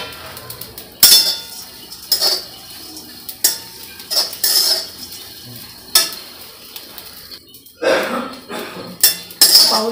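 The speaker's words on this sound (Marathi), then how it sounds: "सुकट चांगली भाजून घ्यायची।" Dried shrimp roasting in a hot kadhai, stirred with a metal spatula: repeated close scraping and clinking strokes at irregular intervals over a faint dry sizzle.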